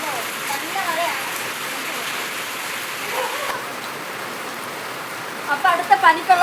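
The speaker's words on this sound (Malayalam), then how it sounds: "ഇവിടെ നല്ല മഴയാണ് ഇന്നലെ തൊട്ട്." Heavy rain falls steadily in the Kuttanad area of Kerala, a continuous broadband hiss that holds even throughout, with a few louder spattering drops and splashes near the end.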